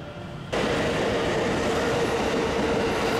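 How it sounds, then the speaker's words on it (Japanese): The Shonan limited express train pulls away from a station platform on the Tokaido freight line. A loud rush of rolling wheels and running gear swells in suddenly after a quieter half second and then holds steady and close. "さあ乗ってきた湘南号、今出発していきます。"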